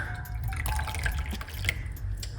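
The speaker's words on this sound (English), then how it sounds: "I finish, top it up with hot water." Hot water poured into a cup of lemon juice and water, a continuous close trickling and splashing stream lasting throughout at an even level, with no talking.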